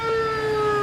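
A police siren wails steadily and loudly in a drama scene, a sustained tone sounding on its own without any talking.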